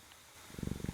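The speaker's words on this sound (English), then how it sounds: "Are you purring? I think you're purring." A cat purrs softly in a quiet room, a faint low rumble that starts after a brief pause and pulses in a steady rhythm of about eight beats, close and gentle with no talking.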